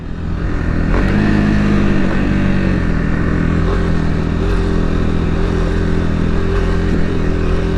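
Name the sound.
Kawasaki KLX300SM supermoto motorcycle riding and revving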